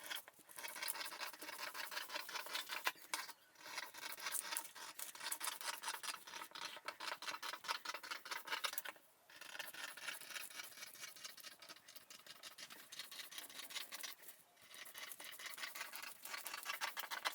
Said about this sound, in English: Next, we're going to cut out our skirt pattern.